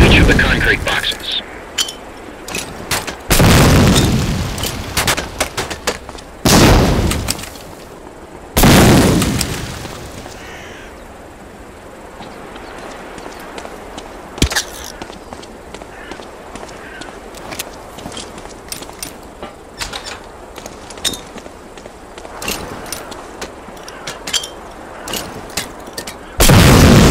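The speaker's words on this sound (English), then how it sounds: "Throw a grenade into each of the concrete boxes." Grenade blasts in the World War II shooter Medal of Honor: Allied Assault, set in North Africa, land as several loud booms spaced a few seconds apart, followed by a long stretch of quieter crackling gunfire and movement.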